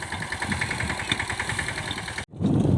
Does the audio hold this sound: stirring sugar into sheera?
no